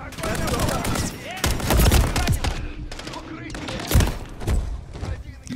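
Rapid automatic gunfire in the Modern Warfare 3 campaign, dense bursts and heavy thumps repeating close by, with a person talking over the shooting.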